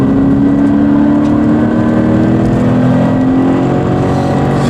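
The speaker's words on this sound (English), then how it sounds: "If you did want to reduce the tyre squeal, just a little bit slower going in" A Toyota GT86 corners hard on a track, a steady high tyre squeal running throughout over the loud continuous engine drone.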